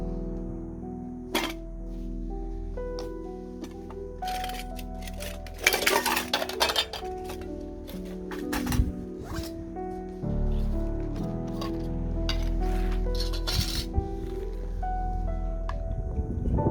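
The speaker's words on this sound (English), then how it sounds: "So we'll just go in with one of my pans." Trangia 27-series camping cookware pans being handled, with repeated metallic clinks and clatters of the pans over a steady low outdoor rumble, a dense cluster of knocks in the middle and more scattered ones near the end.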